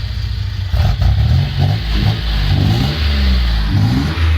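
Toyota Cressida with a 3.0 engine that has been sitting and runs a little rough, revving loudly up close in repeated throttle blips over a rumbling idle, with no talking.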